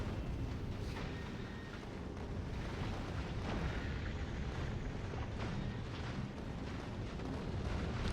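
Turrets in Factorio: Space Age firing at asteroids and smaller chunks, a dense barrage of muffled booms and bursts rolling continuously under a rumbling game soundscape, fairly quiet overall.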